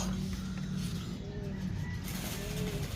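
A racing pigeon coos softly at its home loft on a warm day, faint bird calls and light chirps sitting over a steady outdoor hum with passing traffic in the distance.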